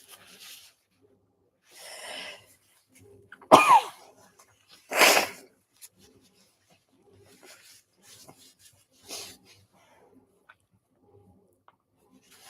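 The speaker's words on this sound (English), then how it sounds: "nagging little sneeze" A few short, sharp nasal bursts, like small sneezes or coughs, spaced apart in a quiet room, with faint rustling between them.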